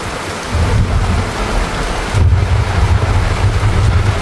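A thunderstorm brings heavy rain pouring onto surfaces with a dense, steady hiss, while deep rolling thunder swells in loud low rumbles and wind buffets the microphone.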